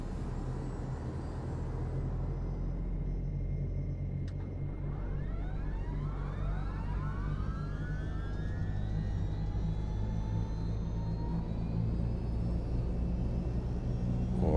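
A simulated aircraft engine in the X-Plane 11 flight simulator runs with a steady low rumble, while a rising whine sweeps upward in pitch midway as systems spool up, loud and continuous with no speech.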